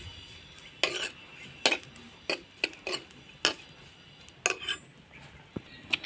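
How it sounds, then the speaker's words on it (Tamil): Pirandai (veld grape) fries in oil in a pan while a metal spoon stirs it, producing about a dozen sharp, separate scraping clinks in an irregular rhythm over a quiet background. "இப்போ வந்து நல்ல கலர் சேஞ்ச் ஆகிற வரைக்கும் இந்த பிரண்டையை நம்ம வறுத்து எடுக்கணும்"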